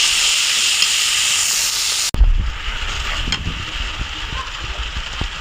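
Turmeric, garam masala, cumin-coriander powder and bay leaf fry in a pan for chicken curry with pointed gourd, giving a loud, close hissing sizzle that cuts off abruptly after about two seconds into quieter stirring and low clatter.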